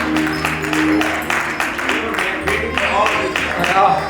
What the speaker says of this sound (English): There should be clapping.